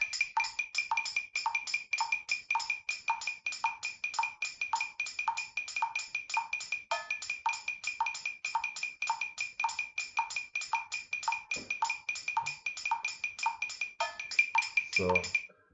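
The Metronomics metronome app plays a 13:23:37 polyrhythm at tempo 110, giving a dense, continuous stream of crisp, bright clicks with layered accents at close range and steady volume.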